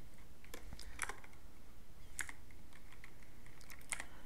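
Several separate keystrokes on a computer keyboard, spaced out at a slow pace while a command is entered, crisp and close over a steady low background hum.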